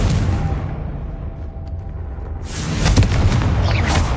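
Confringo blasting spell explosion in the video game Hogwarts Legacy, a dense rumbling boom that swells at the end over a continuous loud low roar, with no talking.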